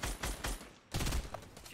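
Rapid bursts of golden-gun fire in a Fortnite battle royale match, loud sustained volleys with a brief gap before another burst.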